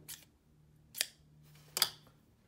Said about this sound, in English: Got these scissors.